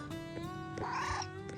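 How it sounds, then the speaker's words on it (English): A house cat, one of three kittens wanting attention, lets out short, close meows and a drawn-out, whiny cry over a soft, steady background hum. "the cats, they always want attention all the time"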